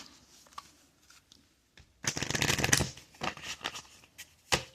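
Oracle cards being shuffled by hand before a unicorn card is drawn, a quiet start breaking into a burst of papery riffling about two seconds in, then several shorter flicks and snaps of the deck.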